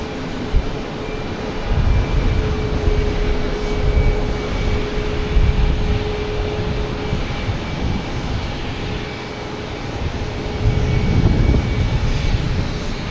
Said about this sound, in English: There's a JetBlue heading to Buffalo in E190.